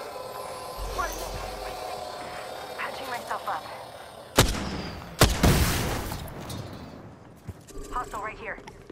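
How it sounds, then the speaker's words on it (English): A grenade detonates in an Apex Legends match: two sharp, loud blasts in quick succession midway, each trailing off into a roar, over constant gunfire and game ambience. "Tossing a grenade."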